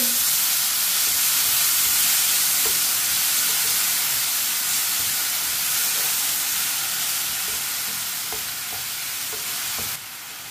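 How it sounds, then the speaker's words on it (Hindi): Tomato paste cooking in a hot pan for a bitter gourd (karela) sabzi, with a loud, continuous hissing sizzle throughout and faint stirring ticks beneath it, easing slightly toward the end. "एक टमाटर का पेस्ट डाल लेंगे। 1 मिनट के लिए पका लेंगे पेस्ट को।"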